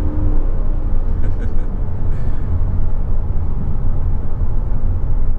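A 2024 Mazda 3 Select Sport sedan with a six-speed transmission accelerates, heard from inside the cabin as a steady low engine and road rumble, continuous and fairly loud.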